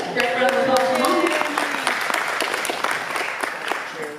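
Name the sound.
audience applause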